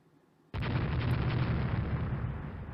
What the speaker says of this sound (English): the Washington has fired into it with 12 17-inch guns